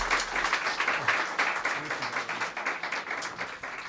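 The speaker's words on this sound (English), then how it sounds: "so a round of applause for them." An audience at a film festival awards night claps continuously in dense, loud applause, with no speech.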